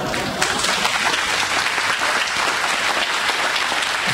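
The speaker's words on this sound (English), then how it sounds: "Stop with the applause." Audience applause at a university education talk in New Orleans, a dense, steady wash of many hands clapping that fills the whole stretch with no voices over it.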